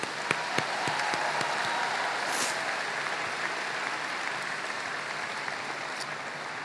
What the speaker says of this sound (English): Let's have another round of applause for the class of 2022, please.